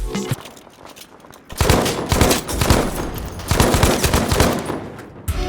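KE7 support weapon firing in the Battlefield V video game, dense bursts of automatic gunfire with heavy booming impacts and battle noise, loud and continuous.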